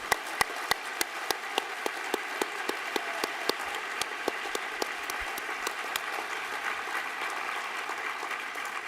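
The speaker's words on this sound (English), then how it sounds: "let's wake up and give our scholars one more round of applause" Audience applauding scholars at a foundation scholars program, sustained even clapping from a large crowd with a few sharp individual claps standing out, no talking over it.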